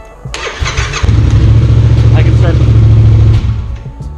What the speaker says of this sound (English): I can start the bike up again without the key.